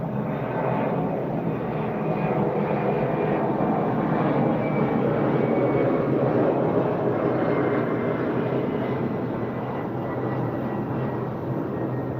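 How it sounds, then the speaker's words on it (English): Airplanes fly overhead with a loud, steady engine drone that holds for about twelve seconds with a slight swell in the middle, no voices over it. "I don't love these fucking planes though."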